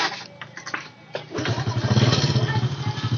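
A Honda Supra motorcycle with a rough-sounding engine fault in a repair workshop cranks with a few clattering attempts, then fires and settles into a close, throbbing idle.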